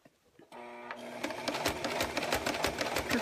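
A sewing machine fitted with a quarter-inch foot sews lining fabric beside a zipper, kicking in after a half-second pause and running as a steady, close, rhythmic whirring stitch to the end.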